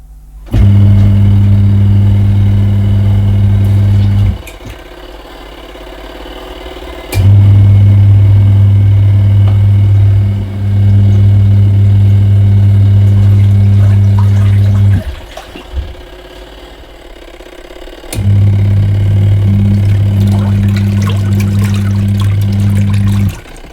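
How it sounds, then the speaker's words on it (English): Leisure Direct GLW-82706 portable washing machine agitating clothes on its final rinse: a loud, steady motor hum that runs in long bursts, stopping and restarting three times with short pauses between, no voices. "I'm going to start it going for the final rinse, and while the clothes are swirling around"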